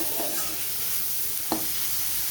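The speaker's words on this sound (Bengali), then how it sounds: "এভাবে আমি কিছুক্ষণ টমেটোটা দিয়ে নেড়ে চেড়ে নেব।" Tomato with salt and turmeric fries in a pan for an egg in mustard-poppy seed dish, giving a continuous close hiss of sizzling oil with a single scrape of the spoon partway through.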